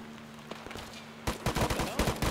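Gunfire in Arma 3: a few scattered single shots, then a sudden dense burst of loud, rapid close-range rounds cracking in quick succession.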